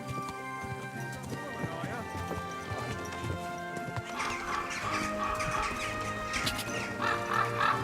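Horse hooves in the video game Kingdom Come: Deliverance 2 clip-clop in a steady rhythm, with occasional snorts and background chatter mixed in, growing busier toward the end.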